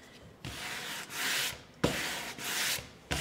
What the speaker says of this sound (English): now you want to sand with your grain